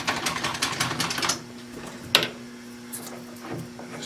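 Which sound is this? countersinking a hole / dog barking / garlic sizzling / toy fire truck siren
countersinking a hole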